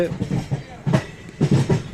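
A passenger train on the long Chennai Central to Siliguri run rumbles steadily on the rails, with rhythmic bursts rising and falling under a person talking nearby.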